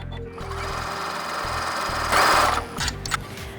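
A sewing machine runs a zigzag stitch across a surgical-style fabric medical mask in short bursts, its rapid mechanical whir starting and stopping with brief pauses, close and loud.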